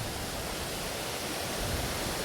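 Steady broadband rush of a waterfall flowing continuously at a Shiva temple in Kakinada district, dense and unbroken with no talk.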